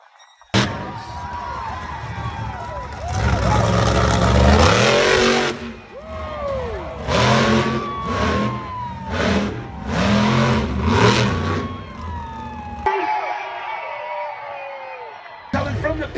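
Monster truck engines rev hard at a fairgrounds night show in Indio, California, with loud repeated throttle bursts and roaring surges, a crowd audible behind, then a sudden drop to quieter ambience near the end.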